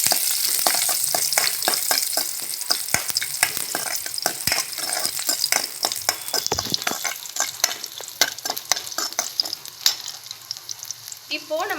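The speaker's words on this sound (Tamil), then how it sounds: "நல்லா ஃப்ரை பண்ணிடலாம்." Ginger and garlic frying in hot oil for channa masala crackle and sizzle up close, with sharp, frequent pops and spatters and the clatter of stirring against the pan, all without any voices.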